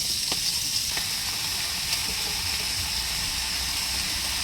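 Patola sautés with shrimp and shellfish meat in a pan, giving a steady close sizzle and hiss throughout with a few faint clinks of a utensil.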